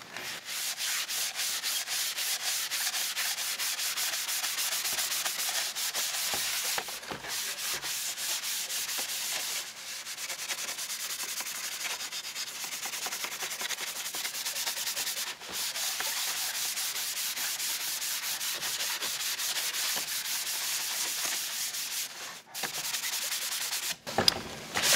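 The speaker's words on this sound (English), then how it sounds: "I am going to spend a little bit more time scuffing those areas" Light hand sanding scuffs a model airplane's fuselage and canopy before painting, a close, steady rasping rub in quick back-and-forth strokes with brief pauses, no voices.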